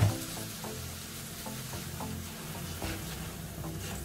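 Spices for a Bengali catla fish curry fry in a pan and are stirred, giving a steady, soft sizzle broken by faint scraping stirs, with no talking.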